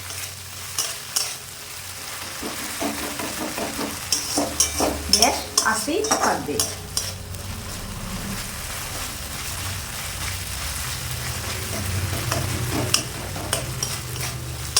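Mustard-based masala for a parshe fish curry fries in a wok over low gas, a steady sizzle broken by scraping stirs and clinks of a spatula against metal; a voice speaks briefly early on.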